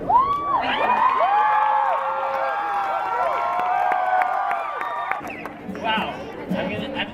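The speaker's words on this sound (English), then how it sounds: "let's give another round of applause to Madison" After a sustained musical passage, a charity concert audience breaks into cheering and shouting at the end of a performance, a dense crowd roar with whoops over the final seconds.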